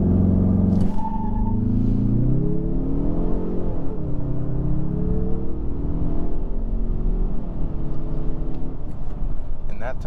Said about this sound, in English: we're going to try another acceleration in sport mode